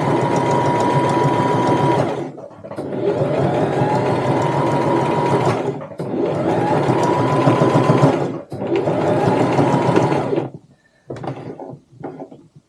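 Sewing machine stitching close to the edge of a tote bag, running in several loud, steady bursts of a few seconds each, with short pauses and small mechanical clunks between runs.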